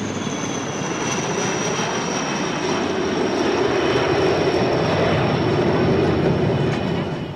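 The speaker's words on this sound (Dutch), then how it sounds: "het optreden van de helikopters van het type Alouette, die even gemakkelijk achteruit vliegen als vooruit" Alouette helicopters flying at an air show at a NATO air base, a steady loud rotor and turbine roar with a high whine, sustained and even throughout with no voices.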